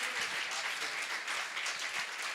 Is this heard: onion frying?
no